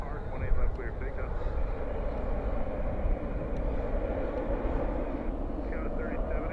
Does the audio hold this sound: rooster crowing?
no